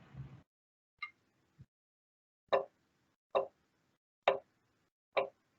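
Sharp, isolated drumstick taps struck one at a time with gaps between them, close and clear, the later strokes evenly spaced.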